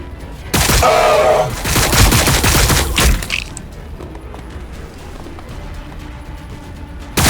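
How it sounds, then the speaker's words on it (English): Gunfire in the Warhammer 40,000: Battlesector game: a loud, dense volley of crackling shots and booms that ends after a few seconds, then trails off into a quieter rumbling battlefield backdrop. "Taking fire! Firing."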